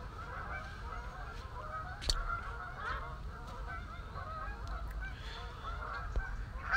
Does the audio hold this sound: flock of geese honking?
yes